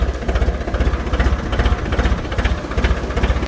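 A tractor engine chugs nearby with a fast, even pulsing throb, loud and steady, no voices over it.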